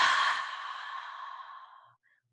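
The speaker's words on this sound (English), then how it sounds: "take a deep breath." A single long, deep exhale, breathy and close, fading gradually over about two seconds into silence.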